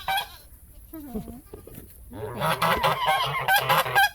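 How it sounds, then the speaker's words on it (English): Geese with blue eyes honk repeatedly outdoors, a noisy, overlapping chorus that grows louder, with people talking now and then. "Out here we have some beautiful geese. They got Oh, nice wow. blue eyes."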